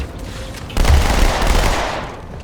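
Rifle fire in the video game Halo 2 erupts partway through as a loud, dense burst of rapid gunshots that keeps rattling on and slowly eases off, with no talk.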